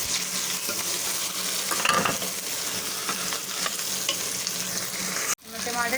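Potato paratha filling stirred and frying in a pan, a steady close sizzle with scraping stir strokes throughout and a brief clatter near the end, without talk.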